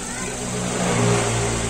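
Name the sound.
Suzuki Ertiga car engine revving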